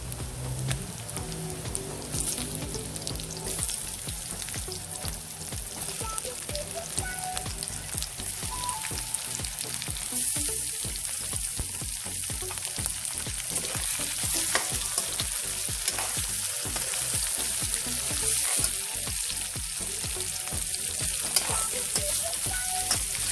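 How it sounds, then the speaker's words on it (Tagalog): Pieces of pork, boiled beforehand, fry for pork adobo in a pan, giving a steady, dense sizzle with crackling pops and occasional stirring scrapes throughout, close and alone. "Ngayon, add ko na yung pork."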